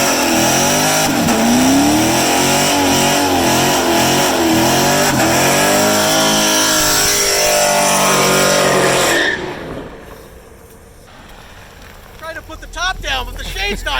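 A loud, deep V8 exhaust on a sixth-generation Chevrolet Camaro with aftermarket headers roaring through repeated hard revs close by, then dropping suddenly to a lower idle with voices talking briefly.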